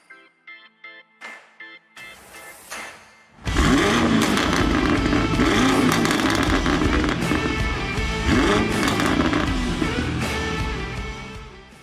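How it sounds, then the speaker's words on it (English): A few short engine blips, then a car revs hard with a dense, loud roar, crackling pops and bangs from a pops-and-bangs tune spattering through the exhaust noise. "we enabled pops and bangs in a simple and quick way"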